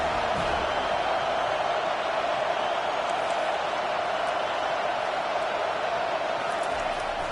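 A packed stadium crowd roars at a college football game between FSU and Alabama, a dense, sustained wall of cheering noise that stays loud and even from start to finish.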